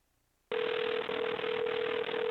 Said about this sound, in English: That's a funky ring, though.